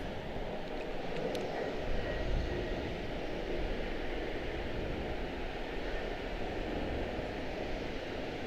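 Arriving airliners at Charlotte Douglas airport produce a faint, distant, steady engine rumble and hiss that hangs in the background without a clear pass.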